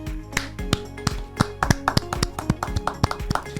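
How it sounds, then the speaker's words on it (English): Scattered audience clapping: a handful of distinct, sharp claps at an uneven rhythm, sparse at first and then quickening slightly, close and fairly quiet. "Round of applause."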